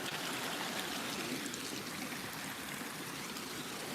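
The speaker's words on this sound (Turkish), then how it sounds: "Burada dere kenarı." Steady rushing and burbling of a stream swollen by rain and snowmelt, continuous and fairly close, with no voices.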